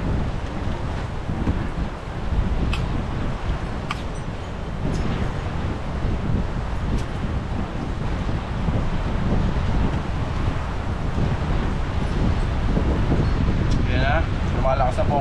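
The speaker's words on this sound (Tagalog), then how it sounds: "Lumalakas na po ang hangin" Strong wind at sea roars continuously through the whole stretch, a loud broadband rush buffeting the microphone, with faint voices mixed in.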